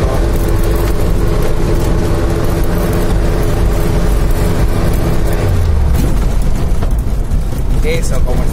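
Car accelerating in second gear on a flat road, a loud continuous engine roar with wind and road noise throughout, under excited talk from people inside.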